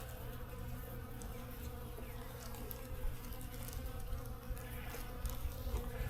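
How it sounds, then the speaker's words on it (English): Dense buzzing of many bees at a beehive entrance swarms continuously up close, a steady low drone with occasional individual bees passing nearer. "there's so many bees."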